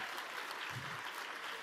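A conference audience claps steadily throughout, a dense, even burst of applause with no individual voices standing out.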